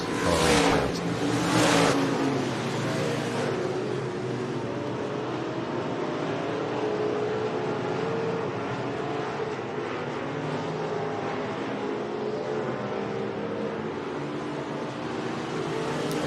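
Several race cars in an IMCA heat race at Boone Speedway in Boone, Iowa, roar steadily around the dirt oval, with a louder burst from engines passing near at the start before settling into a continuous, distant pack drone.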